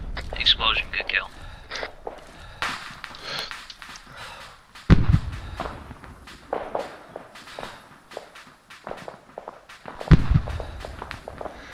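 Explosions in a military combat video game, with two sharp low booms near 4.5 and 10 seconds standing out amid scattered gunfire, footsteps and whispered team talk.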